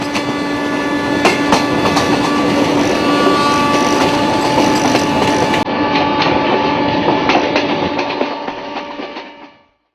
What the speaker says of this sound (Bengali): কলকাতা থেকে ট্রেনে রওনা দিলাম উত্তরবঙ্গের পথে